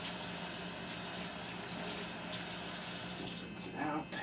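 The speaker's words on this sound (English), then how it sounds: "So now I'll rinse out this 2 tablespoons." Tap water runs steadily over a two-tablespoon measuring spoon being rinsed at a kitchen sink, a continuous close rush with slight changes near the end.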